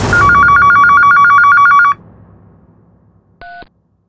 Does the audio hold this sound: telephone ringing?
yes